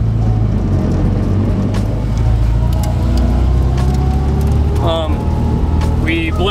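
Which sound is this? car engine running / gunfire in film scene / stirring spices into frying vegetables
car engine running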